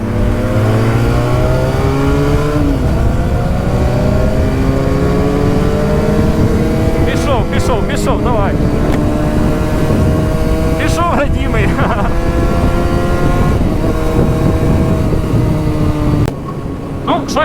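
Benelli and Honda motorcycles ride along village roads, engines droning loudly and steadily up close with shifting pitch as they rev, while wind buffets the microphone and a rider talks over the noise.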